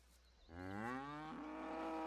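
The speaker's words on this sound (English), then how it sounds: "Can we have some cows, please? Oh, there is a cow." A cow in the farming video game Professional Farmer: Cattle and Crops gives one long, drawn-out moo with a clear rising and falling tone, fairly close and loud after a brief quiet start.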